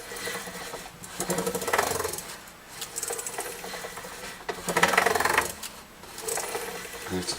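Fine sandpaper rubs lightly across guitar frets in uneven scratchy bursts of strokes, close and moderately quiet, with short pauses between passes.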